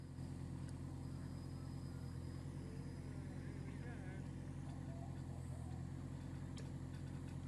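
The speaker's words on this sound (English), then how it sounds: "I've slowed the machine right down. We're just idling." A digging machine's engine idles on a driveway building site, giving a loud, steady low drone throughout with faint higher chirps above it.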